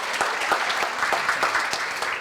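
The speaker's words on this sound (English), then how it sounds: "Yeah, you can clap for Moira." Steady applause from an audience at a community forum on hunger and food insecurity in Marin, many hands clapping evenly and fairly loudly for about two seconds with no voices over it.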